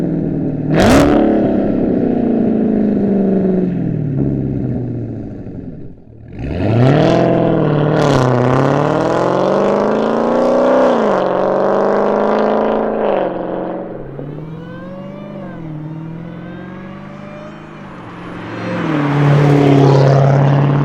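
A Dodge Hellcat with a stainless quad-tip race exhaust accelerates hard through several gear pulls, its loud engine note climbing in pitch, dropping at each shift, then rising again, close and alone without talk.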